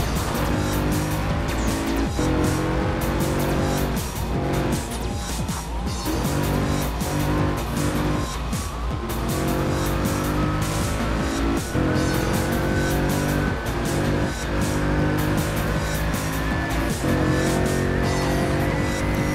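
A rally car in the Forza racing game screams along at high revs under hard driving, with frequent bursts of tire squeal and skidding, gear changes and other cars passing, loud and continuous with no talking.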